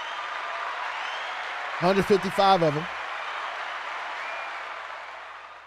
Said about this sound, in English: Got to clap it up for them.